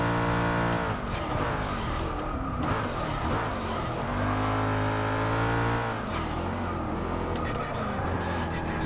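Race car engine in Forza Motorsport 6 revving hard through the gears, rising and dropping in pitch with shifts and a possible skid, loud and continuous, with commentary speech mixed in.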